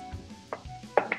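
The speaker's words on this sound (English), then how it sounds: "Cut up some cold butter into chunks." A knife cuts cold butter into chunks, giving a few short, close chopping taps in quick succession with no talk.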